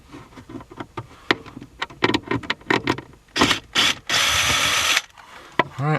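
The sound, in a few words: screwdriver removing screws from Mercedes S-Class panel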